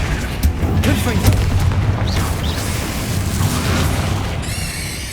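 Spell explosions such as Confringo and Bombarda booming in Hogwarts Legacy, loud dense bursts and crackling blasts piling up one after another, with spoken voices mixed into the din.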